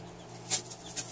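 Young Rhode Island Red chicks peeping: two short, high, bright peeps about half a second apart over a steady low background hum.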